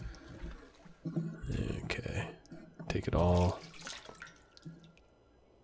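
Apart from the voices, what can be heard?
drinking toilet water in The Long Dark video game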